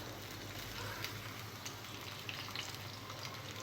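Tempering seeds and garlic fry in hot oil in a pan on the stove, giving a soft, even sizzle with small crackles, steady and fairly faint.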